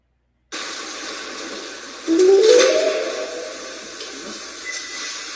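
A broad hiss switches on abruptly as a speaker is turned on during a ghost hunt at Pennhurst Asylum, then a faint rising whistle-like tone emerges briefly over the noise before fading.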